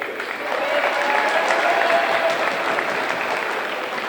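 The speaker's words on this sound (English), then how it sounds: "Everybody give a nice round of applause for all of our seniors." Steady crowd applause rings through a gym at a women's basketball senior night, a dense even roar of clapping that holds for several seconds.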